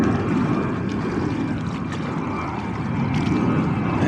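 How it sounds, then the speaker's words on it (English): A propeller airplane from a nearby airport passes overhead near North Brother Island in New York City, its steady broadband engine drone filling the air with no talking. "there's an airplane"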